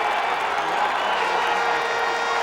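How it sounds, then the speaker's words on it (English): A football crowd murmurs and grumbles in displeasure at a ball spot during a high school playoff game, a steady wash of distant voices. "Crowd was not happy with the spot"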